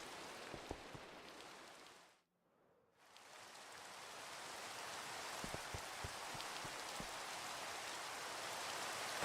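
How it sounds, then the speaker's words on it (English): Steady broadband rain pours down in Minecraft, a dense even hiss with scattered droplet ticks that drops out for a moment before returning just as loud. "And of course, it's still raining here."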